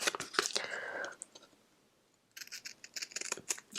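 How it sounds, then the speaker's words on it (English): Small Cutter Bee craft scissors snip around a floral die-cut paper shape, with quiet close-up clicks and crisp cuts in short bursts separated by a near-silent pause. "I'm going to get my little cutter bee scissors, and I'm just going to fussy cut around that"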